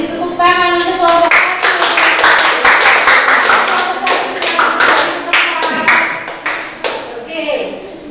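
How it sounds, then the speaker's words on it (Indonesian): A classroom of students applauds a presenting group with quick, uneven claps, while overlapping voices speak and call out loudly throughout. "Kasih tepuk tangan untuk kelompok"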